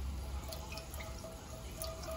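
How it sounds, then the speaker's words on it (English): About half a cup of chicken broth is poured into a hot soup pot, giving a faint, close trickle with small scattered drips and no talking. "Now go ahead and pour in like maybe a ½ a cup of chicken broth."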